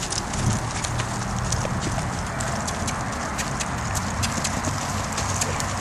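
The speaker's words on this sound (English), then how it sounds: "And see if I can't get a little bit of canter." An Andalusian/Arabian cross rescue mare canters under a rider, her hoofbeats landing in a steady rhythmic clip-clop over constant rustling ground and wind noise, moderately close.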